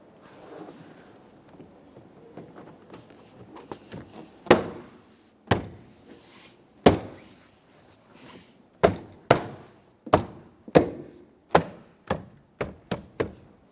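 Sharp plastic snaps and thunks of interior door panel clips being pressed home on a 2010-2013 Kia Forte Koup, about a dozen spaced hits that come faster toward the end.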